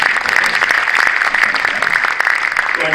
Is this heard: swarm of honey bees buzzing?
no